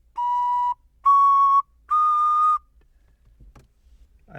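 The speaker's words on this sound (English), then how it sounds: "the difference between an ocarina and another ocarina" An ocarina plays three long, pure held notes, each slightly higher than the last, separated by short pauses, then quiet.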